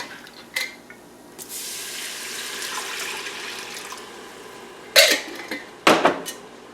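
Vegetable broth is poured into a pot of sweet potato and red lentil curry: a soft running-liquid wash, then several sharp metallic knocks of the pot and utensils, close, with no speech.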